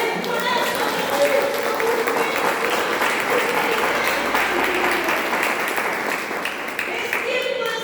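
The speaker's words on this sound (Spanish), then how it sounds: "Den un aplauso" A church congregation bursts into loud, dense applause that sustains evenly for several seconds, close and full, with scattered voices mixed into the clapping.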